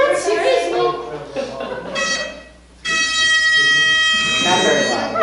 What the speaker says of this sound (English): No, it's just an air horn.